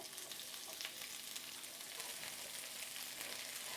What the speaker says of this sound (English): Now that's garlic, which has been well and truly minced. We're going to add a little onion to that.